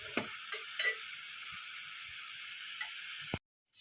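Cauliflower florets frying with dried chillies in a pan give a steady close sizzle with occasional stirring scrapes, continuing alone until it cuts off abruptly near the end.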